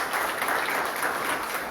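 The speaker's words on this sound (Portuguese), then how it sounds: "Vamos aplaudir o Senhor." Church congregation applauding during an evangelical worship service, a steady wash of clapping from many hands at moderate distance, continuous throughout without speech.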